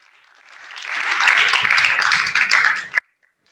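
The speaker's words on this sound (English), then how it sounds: "Please give them another round of applause." Audience applause at a graduation ceremony, swelling in over the first second into a dense, sustained clapping, then cutting off sharply to silence near the end.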